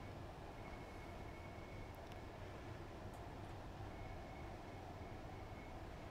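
A Southeastern high-speed train in Train Sim World 3 brakes as it arrives at Chatham station, heard as a steady low cabin rumble with faint brake squeals.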